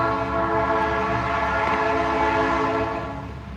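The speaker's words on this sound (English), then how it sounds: "look, another commuter train." Commuter train passing close by, a loud sustained horn blast over rumbling rail noise that fades slightly at the end.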